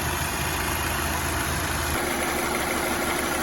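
A warmed-up Mercedes W212 with the turbocharged M271 engine, knocking when hot, runs noisily at idle: a steady, close engine drone whose low rumble shifts partway through, with no talking.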